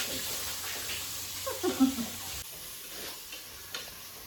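Chopped onions sizzle in a hot pan for a mushroom biryani, a steady, fairly quiet hiss with a few soft stirring bumps partway through.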